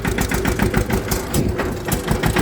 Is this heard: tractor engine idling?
yes